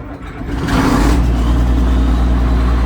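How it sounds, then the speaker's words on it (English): Diesel engine of a farm tractor revving while replanting a cornfield: a loud, close low rumble that swells within the first second and then holds as a steady heavy drone, no talking. "Diesel!"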